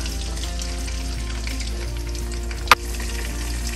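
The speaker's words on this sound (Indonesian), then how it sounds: "Setelah panas minyaknya, kita masukkan udang." Shrimp sizzle and fry steadily in hot oil in a pan, a loud continuous crackle with one sharp clatter near the end, likely stirring.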